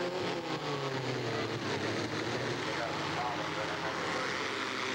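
Swamp buggies racing at a Fall Fever event in 1988 roar in a dense, steady engine drone from a distance, with crowd and track noise mixed beneath the continuous rumble.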